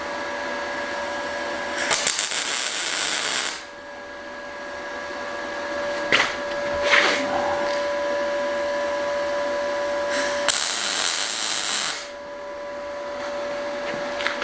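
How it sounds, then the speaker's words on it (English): Two short bursts of spot welding on metal parts held by magnets crackle loudly over a steady machine hum, with a few faint clanks between them, on an outdoor farm restoration site. "I'm just going to put a couple of spot welds on it just to lock it."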